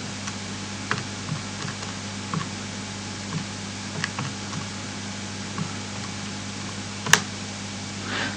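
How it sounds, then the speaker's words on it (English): Faint clicks of calculator buttons being pressed while numbers are entered for a trigonometry calculation, soft scattered taps over a steady low hum, with one sharper click near the end. "that allows us to just type it into a calculator and work it out"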